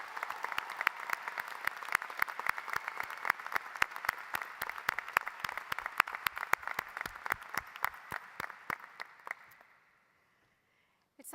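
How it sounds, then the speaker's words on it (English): Audience applause for graduating students at a medical school hooding ceremony, a steady dense clapping that carries on for about nine seconds and then stops abruptly, leaving near silence. "Will you please give these students a round of applause?"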